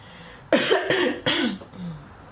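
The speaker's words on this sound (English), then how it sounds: "You guys have heard me cough and all that." Three harsh coughs close together, loud and near, followed by a short throaty breath.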